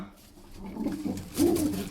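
Female pigeons in a loft give soft, low cooing calls, rising to a clearer, louder coo in the second half over faint background noise.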